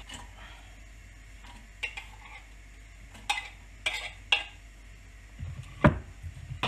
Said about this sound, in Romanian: Și tăiem ceapa mărunțel